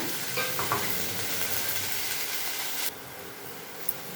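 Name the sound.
green chillies frying in a little oil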